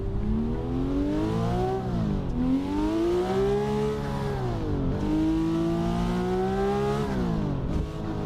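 Video game car engine with a realistic RPM mod revs up and down in repeated sweeping climbs, steady and loud throughout, with no talking.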